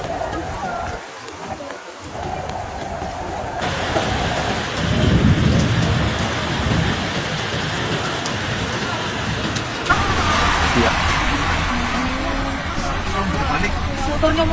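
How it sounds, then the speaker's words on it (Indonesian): Heavy rain pours steadily over a flooded street in Pemalang city at night, a dense continuous roar with a low rumble like distant thunder, and voices murmur faintly beneath it. "Hujan deras menggila, air naik tanpa ampun"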